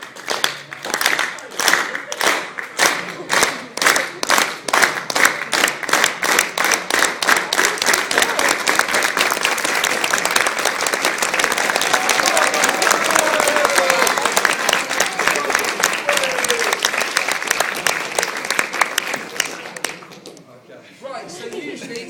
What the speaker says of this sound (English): we can get a bit of a clap for this one